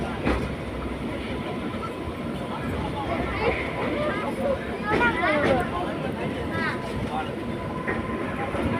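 A train moving slowly, giving a steady, fairly close rolling rumble that holds through the whole stretch, with people talking over it.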